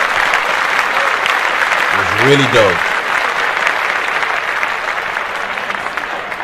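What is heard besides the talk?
studio hosts clapping in applause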